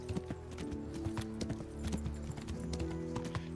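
Horse hooves clip-clopping at a steady riding pace in Kingdom Come: Deliverance, near and fairly clear over a soft background music bed.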